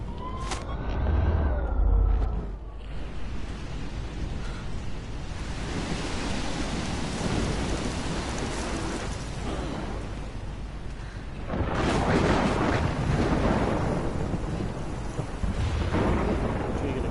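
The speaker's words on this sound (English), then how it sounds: "I've never seen a storm like this in Oregon." A thunderstorm in a video game set in Oregon, with steady heavy rain and deep rolling thunder that swells loudly at the start and again later, dense and close throughout.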